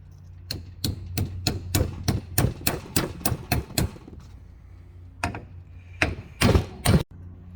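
Steel hammer driving a punch during a Ford 8.8 differential teardown and rebuild: a fast, steady run of about a dozen sharp metallic blows, close and loud, then a pause and a few final heavier strikes.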